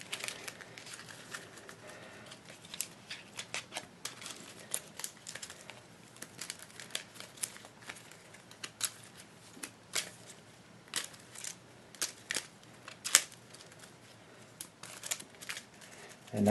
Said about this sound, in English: We are going to shuffle them in.